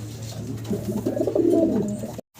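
A pair of pigeons coo close by in a steady stream of low, throaty rolling calls over a constant low hum, cutting off abruptly just before the end.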